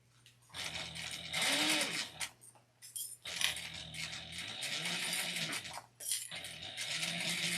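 A sewing machine bastes a narrow seam on a small fabric wristlet in short, quiet runs of stitching separated by pauses and handling noises, heard close up.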